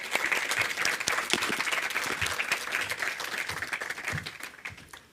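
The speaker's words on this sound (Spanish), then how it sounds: "pido un aplauso para Neca" Audience applause at a book presentation for the novel La Reina Roja, a steady wash of many hands clapping that fills the room for about five seconds before tapering off at the end.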